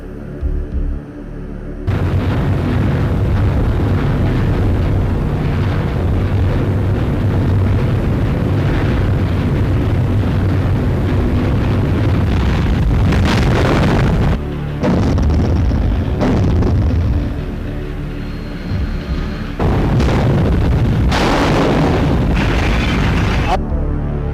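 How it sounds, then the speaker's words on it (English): Deep, rumbling booms of underwater depth charge explosions roll one into another, loud and sustained, with brief drops between heavy blasts. "The familiar ping of sonar from an approaching ship would be followed by the explosions of depth charges."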